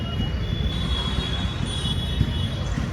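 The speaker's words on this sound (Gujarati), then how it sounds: "આ આપણી નાની એવી ટ્રેન." A small train at Bhavnagar railway station rolls close by, its wheels squealing in a thin sustained whine over a steady low rumble.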